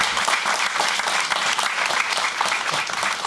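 An audience at a skateboarding talk event breaks into dense, steady applause, many hands clapping together at an even volume throughout.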